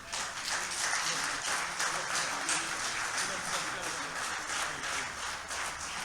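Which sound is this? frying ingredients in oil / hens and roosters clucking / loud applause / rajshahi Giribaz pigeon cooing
loud applause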